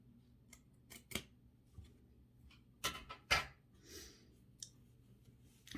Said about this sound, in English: Just got to snip a little more off here.